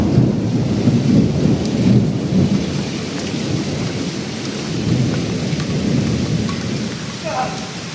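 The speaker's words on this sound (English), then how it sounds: "The storms were accompanied by intense lightning activity and strong winds" Heavy rain pours steadily with deep rolling thunder during a storm with hail in Spain, a loud, continuous downpour with rumbles swelling and fading and no voices.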